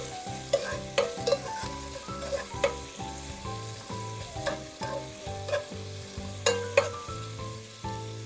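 Ginger sautéing in a pan for ginataang isda, a Filipino coconut-milk fish dish, with a steady close sizzle and a series of sharp spatula scrapes and taps against the pan, over faint background music.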